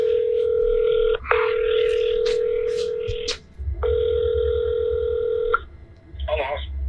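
Telephone line tones while calling a shop, a steady loud dial-style tone broken by short gaps, with a brief voice near the middle and a faint warbling tone at the end.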